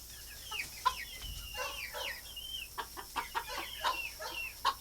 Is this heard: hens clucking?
yes